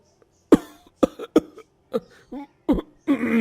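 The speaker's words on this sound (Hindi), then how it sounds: "उसे खांसी आने लगती है" A person coughs repeatedly in a series of harsh, close bursts, ending with a strained, raspy throat-clearing cough.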